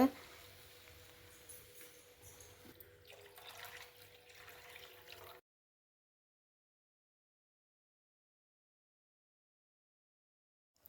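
Water poured into a cooking pan for making broken-rice upma, a faint steady trickle and splash lasting about five seconds, then silence.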